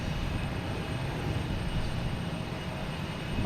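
A JetBlue airliner passes at Boston Logan Airport, a steady, continuous engine roar that stays even and fairly loud throughout the short stretch, swelling slightly at the very end.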